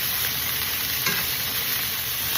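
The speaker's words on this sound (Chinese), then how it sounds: "现在又煎了2分钟，背面也差不多都变成金黄了" Chicken pieces pan-fry in a pan for a white wine cream sauce dish, a dense, steady, loud sizzle that holds unbroken throughout, with no talking.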